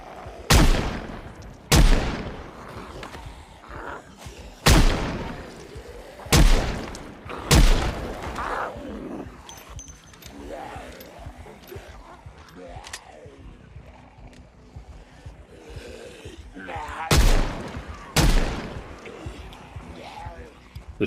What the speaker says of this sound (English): let's break out the pistol or the revolver, I guess